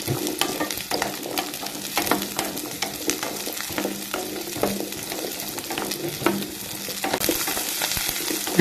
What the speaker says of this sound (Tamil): எண்ணெயில் நல்லா வெங்காயம் பொன்னிறமாகிற வரைக்கும் வதக்கிட்டே இருங்க